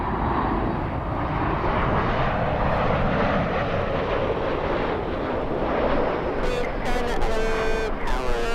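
An airliner on the Atlanta flight roars at Los Angeles International Airport, a loud, continuous jet engine rumble that holds steady throughout, with faint voices in the background.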